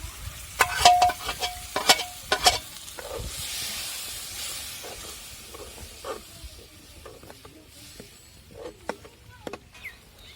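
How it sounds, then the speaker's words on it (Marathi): Dal and its cooking water are poured into masala frying on a wood-fired clay stove, giving a loud hiss and sizzle at the start that settles into softer bubbling with scattered clinks of stirring. "ती डाळ आणि डाळीच पाणी टाकायचे आपल्याला आता"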